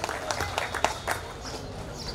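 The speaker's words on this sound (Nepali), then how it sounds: "सबैजनालाई एकचोटि ताली बजाइदिनको लागि म हार्दिक" Scattered applause from an audience honouring chief guests at a table tennis covered hall inauguration ceremony in Bhaktapur, a brief burst of claps that thins out quickly, moderately distant.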